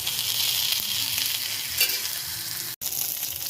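Oil sizzles steadily in a pan over a wood-fired stove while chili chutney is being made, a close, even frying hiss with one brief break.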